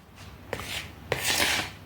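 Wheat flour being stirred into semolina in a bowl for a sweet, with two gritty scraping sweeps of a spoon through dry flour, close and rough-textured, with no talking.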